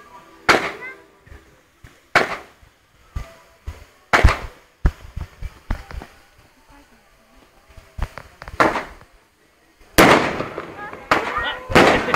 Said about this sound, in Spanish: Con fuegos artificiales.